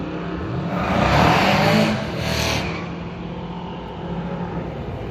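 Race cars at a NASCAR track in Atlanta roar past close by, one loud surge building and fading, then a second pass, leaving a distant engine drone.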